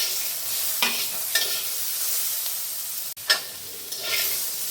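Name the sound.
stir-frying tomatoes with potato and eggplant in pan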